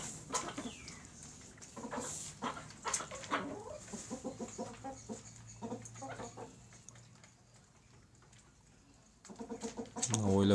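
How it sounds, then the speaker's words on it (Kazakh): Domestic chickens cluck and call repeatedly at close range, the bursts irregular and overlapping, with quieter stretches between. "Домашний тауықтар ғой,"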